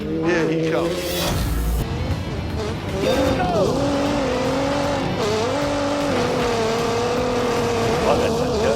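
A racing car on a flying lap in The Grand Tour video game, its engine droning loud and steady with rising and falling pitch as it shifts, with brief tyre squeal and a voice over it.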